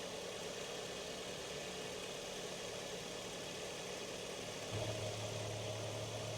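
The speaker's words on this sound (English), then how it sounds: "you can hear that there's pressure on this filler cap." A 2003 Mazda MX-5 engine idles with the oil filler cap removed, giving a steady breathy hiss and hum of crankcase pressure, with a low drone rising slightly near the end.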